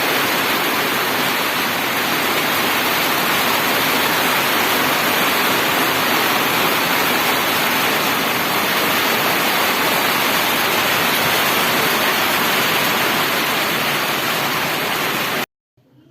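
Heavy rain pours steadily in Murree during bad weather, a loud, dense, unbroken hiss that carries on for about fifteen seconds before stopping abruptly.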